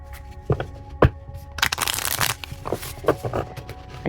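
A brand-new deck of tarot-style cards is shuffled close by, with a few sharp taps and snaps followed by a burst of riffling flutter and scattered clicks as the cards are squared.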